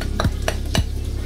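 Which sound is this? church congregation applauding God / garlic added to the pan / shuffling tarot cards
garlic added to the pan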